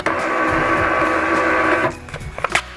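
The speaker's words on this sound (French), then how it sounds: "Ça c'est mon imprimante pour expédier les petits colis, enfin pour mettre une petite étiquette dessus." A label printer runs steadily for about two seconds, feeding shipping labels for small parcels, then stops, leaving a few faint clicks and handling knocks close by.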